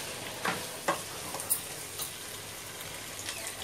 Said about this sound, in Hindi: और फिर मैं इसको एटलीस्ट 30 सेकेंड्स के लिए भी इसमें भून लूँगी अच्छे से